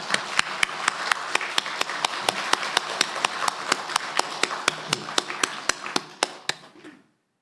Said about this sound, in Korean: 우리도 힘찬 박수로 영광 돌리겠습니다